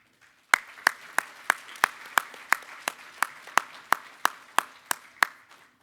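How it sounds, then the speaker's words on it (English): Steady rhythmic clapping, about fifteen crisp claps in an even beat, close and fairly loud with nothing else heard. "please give a round of applause to Sheriff Eric Orange."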